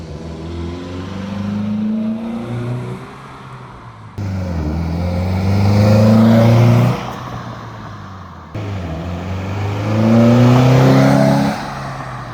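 A car fitted with a new aftermarket muffler revs up in three separate bursts, each a deep, rising exhaust roar that swells and fades, heard close and loud with no talk.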